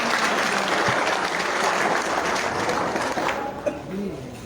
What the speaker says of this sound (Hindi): ऐसे महाराज के लिए जोरदार तालियां बजाइए।